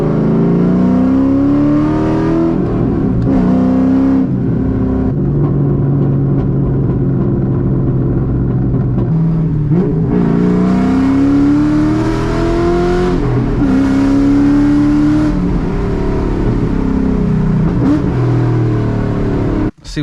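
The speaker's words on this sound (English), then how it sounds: "Let's take her out, go through the gears." A 1999 C5 Corvette V8 revs hard from inside the cabin, climbing in pitch through successive gears with brief dips at each shift, loud and continuous.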